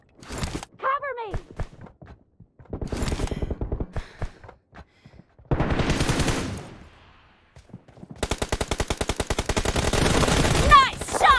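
Gunfire in a shooter video game, with short bursts and rapid automatic strings of shots between stretches of voices, ending in a long sustained volley.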